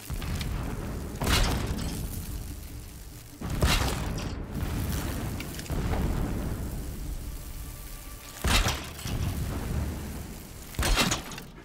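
Repeated deep booming explosions in the game Horizon Zero Dawn, several heavy blasts spaced a few seconds apart over a continuous rumbling, noisy background, loud and fairly close, with no talk.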